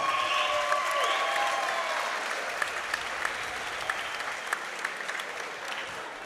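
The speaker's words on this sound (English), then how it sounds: "A huge round of applause for these gladiators." A fight-night crowd at a Pro-Am Muay Thai event applauds two 61kg fighters after five rounds, a dense, steady roar of clapping that fills the venue and fades slightly toward the end.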